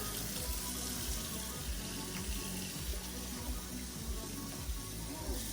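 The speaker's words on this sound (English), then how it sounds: "Make sure you run some cold water." Cold tap water runs steadily over a pressure cooker in a kitchen sink, a dense continuous splashing rush with a low gurgling undertone, close and unbroken.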